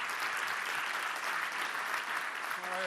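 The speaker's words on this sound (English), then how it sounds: "Let's give them another round of applause" Audience applause at a stage event: steady, fairly faint crowd clapping throughout, with a voice briefly starting at the very end.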